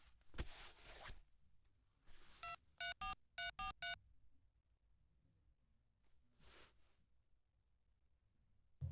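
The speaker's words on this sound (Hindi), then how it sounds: "फोन करके अभी बात कर लेता हूँ।" A telephone being dialed for a call, with a short series of evenly spaced beeping tones in two quick groups, between quieter rustling and breathing sounds.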